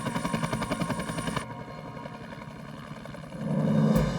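A helicopter-like aircraft flies low through mountains at night, its rotor beating loud and rhythmic at first and then fading to a steady drone that swells again near the end.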